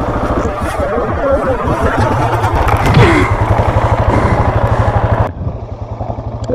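A KTM 690 Enduro R motorcycle engine chugs with a steady, rapid low thump close by while people talk and laugh over it; the idle continues throughout.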